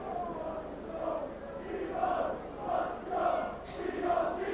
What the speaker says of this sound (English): the crowd there just chanting to our friendly neighbourhood Steve-O